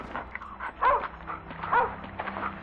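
A dog in the video game The Division 2: Warlords of New York gives two short whining barks over a steady low game ambience, fairly close and moderately loud.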